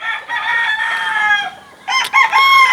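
A young rooster, a stag, crows twice up close, a loud strained call that breaks off partway, followed by a shorter second crow, with no voices.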